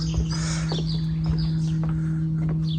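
Small birds chirp and tweet outdoors in quick bursts over a steady low hum of distant traffic and a light breeze, with no talking.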